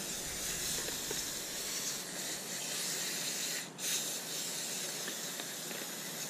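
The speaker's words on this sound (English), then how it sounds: "kind of spray the whole thing off." A continuous hissing spray of cleaner on a Honda Rubicon carburetor close by, steady and broad, with one brief pause partway through before it resumes.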